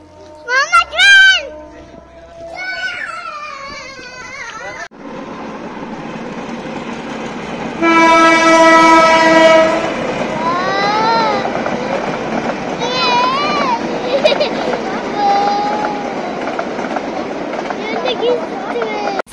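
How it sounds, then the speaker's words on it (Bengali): A passing train rumbles steadily for much of the stretch, with a loud horn blast partway through, while children chatter nearby. "ট্রেন দেখছো?"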